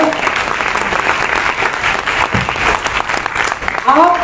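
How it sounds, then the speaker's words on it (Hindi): An audience in a training hall breaks into loud, sustained applause, dense clapping that fills the whole stretch and swells again near the end. "तो एक ताली आपको अपने लिए बनती है"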